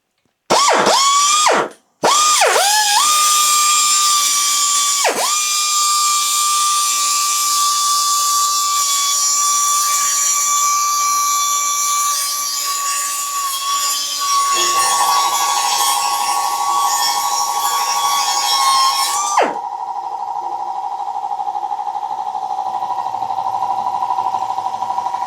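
Cutoff wheel on a rotary tool slicing through bolts during a Traxxas XRT RC truck rebuild, a loud, sustained high-pitched grinding whine after a few short starts, with the pitch dropping partway through before the tool cuts off.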